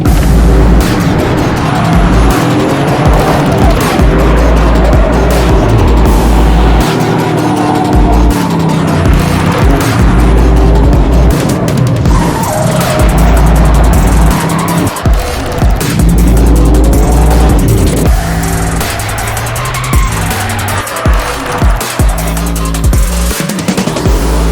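A Toyota Yaris GR is driven hard and flicked through corners, its engine roaring loud and continuous from inside the car with revs rising and falling and occasional tire noise.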